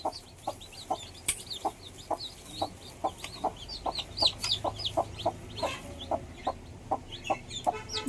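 Chickens cluck repeatedly in a steady rhythm, close by, with high thin peeping from newborn chicks scattered throughout; no one speaks.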